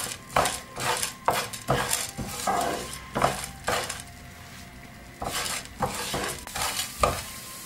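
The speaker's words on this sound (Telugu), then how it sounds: "మనకి దీని శనగపప్పు అవి కూడా కొద్దిగా వేగినాయి కదా" Cumin and chana dal dry roast in a pan for curry leaf powder, with a utensil repeatedly scraping and tossing the seeds in rhythmic strokes over a light sizzle, close and steady.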